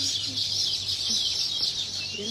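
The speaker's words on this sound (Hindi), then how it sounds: "बहुत ज़्यादा चहचहाने की आवाज आ रही है" Dense, continuous high chirping of many birds outdoors at a hillside prayer site, loud and steady throughout with a faint low hum beneath and no clear speech.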